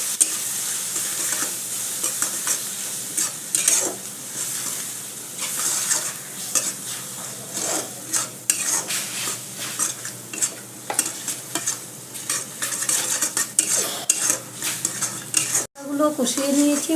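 Ground spices and softened tomato for masoor dal stirred and fried in a pan, with a continuous sizzle and steady scraping of a spoon against the pan, plus a few clinks of utensils, all with no talking.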